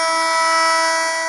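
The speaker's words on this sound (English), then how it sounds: "And the buzzer sounds." A loud, steady electronic hockey goal buzzer in the video game Stone Cold Hockey 2005-06 blares continuously, harsh and droning, holding one level for over a second with nothing else audible.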